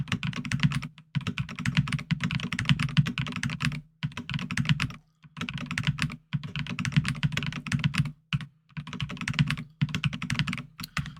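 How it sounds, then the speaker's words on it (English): Computer keyboard clicks as someone types Excel shortcuts: close, crisp bursts of rapid keystrokes separated by short pauses, with no talking. "For those of you who like to hear the clicks, you will be enjoying this"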